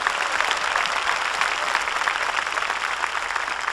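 A church congregation claps during a sermon, a dense, even burst of many hands that stays loud and steady throughout without a break.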